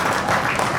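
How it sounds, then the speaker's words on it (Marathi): Audience applause at a Marathi film trailer launch event, a short dense burst of many hands clapping that fills the room briefly at moderate loudness. "तर एकदा जोरदार टाळ्या करणसाठी."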